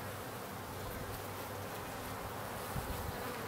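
Honeybees on a brood frame from an open hive, a dense, steady close buzz filling the whole stretch with no voices.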